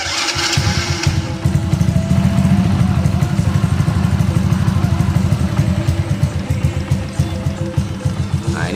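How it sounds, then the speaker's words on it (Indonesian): A custom street cub motorcycle engine idling close by, running with a steady, loud rhythmic putter and slight mechanical clatter after a brief start at the beginning, with no talking. "Oke, sekarang kita coba nyalain mesinnya ya"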